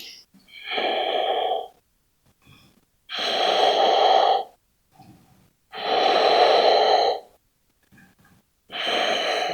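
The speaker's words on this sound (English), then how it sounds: "Big breath." Deep, slow breaths taken during a gentle floor yoga flow, four long breathy inhales and exhales in a steady rhythm, close and clear with short quiet pauses between them.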